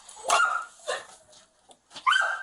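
Puppy barking: three sharp, high yips spaced about a second apart, close and fairly loud, with no talking.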